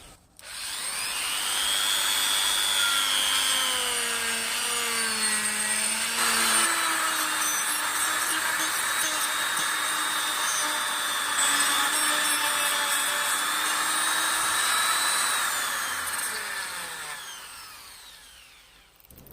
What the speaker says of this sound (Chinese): 对成活的部分要间断打磨，磨的时间不能太长，太长了产生热量把皮层烧坏。